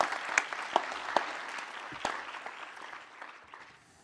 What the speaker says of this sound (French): je vous demande donc évidemment de l'applaudir